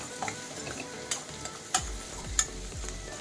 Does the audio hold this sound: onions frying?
yes